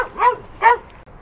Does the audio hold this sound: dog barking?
yes